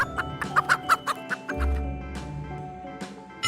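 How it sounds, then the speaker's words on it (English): A hen clucks in a quick series of sharp, close calls, then lets out a low, drawn-out croon, all within a children's alphabet song backing. "H is for hen."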